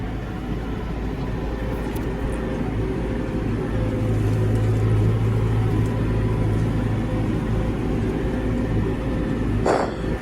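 A Deutz Fahr 5090G tractor runs steadily with its PTO turning at 540 economy speed for a baler, giving a continuous low mechanical drone at moderate level without talk.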